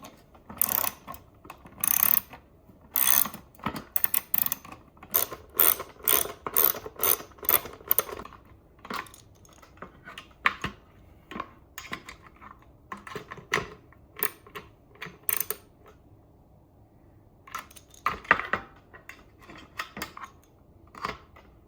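A ratchet tightens nuts on a custom ECU mount for an Acura RSX, crisp repeated clicking strokes in uneven bursts, close and clear, with pauses between runs and no talking.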